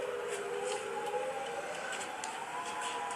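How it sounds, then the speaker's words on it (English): Dual-tone outdoor tornado warning siren during a test, a steady wailing pitch sounding continuously from a distance, with no one speaking over it. "First time recording the siren off of this."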